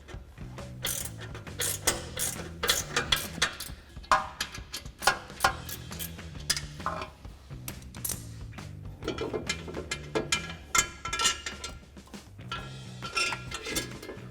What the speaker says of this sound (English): So we can take a 15mm ratcheting wrench to remove those and pop them out.